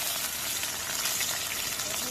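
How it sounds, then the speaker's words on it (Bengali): Chopped onion and green chili fry in hot oil, giving a steady, dense sizzle that holds evenly for the whole short stretch with no voices. "পেঁয়াজ কাঁচামরিচ একটু ভেজে নেব"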